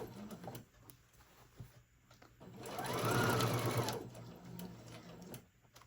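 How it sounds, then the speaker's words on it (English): A home sewing machine with its arm removed stitches a seam on a Santa tote bag, a fast mechanical whir that swells loud for about a second in the middle, with quieter clicks and handling around it. "I've taken the arm off of my sewing machine so I can sew this"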